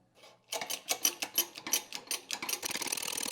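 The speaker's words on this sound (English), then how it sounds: "Now here I start spinning this nut or the spacer" A nut or spacer being spun onto a part of a 1972 Triumph GT6 engine, a quick run of rhythmic metallic ratcheting clicks that speeds into a fast buzzing whirr, close and fairly loud.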